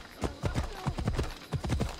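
Horse hooves in Assassin's Creed Odyssey, a brisk clip-clop of repeated hoof strikes in quick uneven rhythm, close and steady over game ambience.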